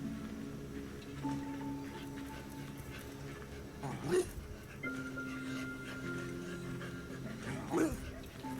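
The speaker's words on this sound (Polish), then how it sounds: "Śmieszny pies jesteś." Dog in a video game panting steadily in rhythmic breaths, with two brief whimpers or yelps rising above a constant hum of game ambience and soft tones.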